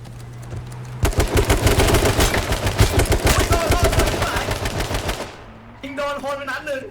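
Sustained automatic gunfire from the online survival shooter H1Z1 crackles loud and close for about four seconds, a dense string of rapid shots that stops abruptly before a voice is heard briefly at the end.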